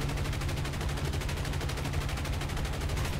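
Rapid machine-gun fire from a World War II A-36 fighter plane in a realistic-mode flight combat game, a dense, evenly spaced stream of shots over a steady engine drone, continuous for several seconds.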